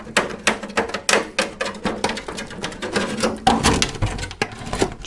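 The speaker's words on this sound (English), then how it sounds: "just take a little scissors and" Small scissors trim a model car body shell, producing a quick run of close, sharp snipping clicks and crunches in an irregular rhythm, loud and alone without any talk.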